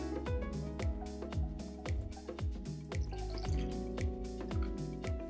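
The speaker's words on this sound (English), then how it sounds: "Pour our mixture in." A mojito mocktail mixture poured into a glass of ice, with close splashing, dripping and cracking of ice in a steady rhythm throughout, no voices.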